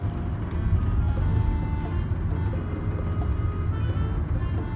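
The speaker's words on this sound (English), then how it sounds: "That's my car making awful noises." Car engine of a faulty car running rough and loud, a steady low rumbling drone with a grinding, uneven texture throughout.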